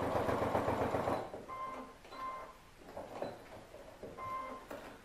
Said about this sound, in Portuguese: Viro aqui a peça, vou dar continuidade à minha costura.